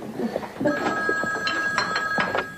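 An old telephone bell rings indoors in short repeated bursts, loud and close, over low room murmur.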